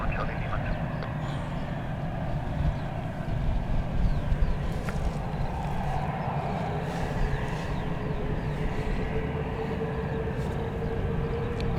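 An Emirates Airbus A380 on flight EK16 to Dubai takes off from runway 08 right, a distant, steady broadband jet roar that holds evenly throughout.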